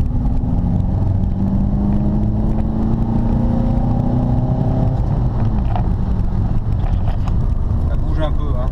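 A Renault Megane coupé dTi drives along a small country road, its engine droning steadily at close range over tyre and wind noise. Pitch rises and falls as it accelerates, and someone talks partway through.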